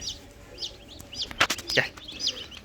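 High, thin cheeps from a newly hatched chick from an incubator repeat close by, mixed with a few sharp rustles and knocks.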